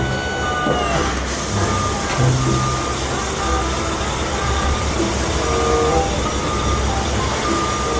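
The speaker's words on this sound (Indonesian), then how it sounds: "Dump truck." A toy sand dump truck plays steady repeated reversing beeps in a regular rhythm, fairly clear against a noisy background with voices talking nearby.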